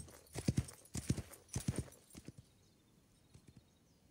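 Hoofbeats from a horse in the Wild West Online game clop in three brisk clusters, then thin out into a few faint, scattered steps as the sound fades.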